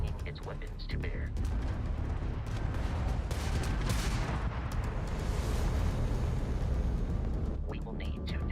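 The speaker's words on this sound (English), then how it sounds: "that's a Crimson Fleet ship bringing its weapons to bear" Enemy Crimson Fleet ship firing weapons in Starfield space combat, a dense rumbling barrage of booms and blasts running continuously, with a voice talking over it.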